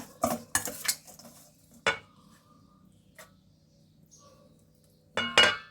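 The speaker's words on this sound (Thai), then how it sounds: "ทีนี้ก็คลุกเลยนะคะ" A utensil clinks and scrapes against a dish while fish larb rice is mixed with roasted rice powder and chili in a cramped home kitchen: sharp, close clatters come in short clusters, separated by quiet gaps.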